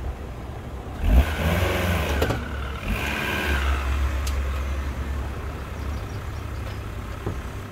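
A car engine hums low and steady while the car creeps up onto ramps for an oil service, with a brief louder rev near the start and a constant close rumble after.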